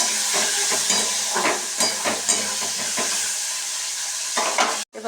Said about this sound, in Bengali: ফ্রাইড রাইসের সমস্ত সবজি ভেজে নিচ্ছি